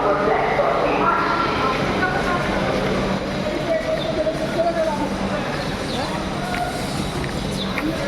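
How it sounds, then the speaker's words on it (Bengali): Howrah–Panskura local train (number 38431) arriving at platform 3 of a busy Indian railway station, a steady loud rumble of the train and station crowd noise throughout, with a platform announcement and people talking over it. "38431 अब हावड़ा पांशकुड़ा लोकल 3 নম্বর প্ল্যাটফর্মে আসছে"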